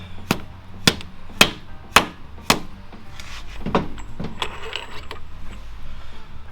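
Seal driver tapped onto a Harley-Davidson Ultra Classic motorcycle fork tube, five sharp evenly spaced metallic knocks at close range, then softer clinks and rustling as the tool is handled in a garage.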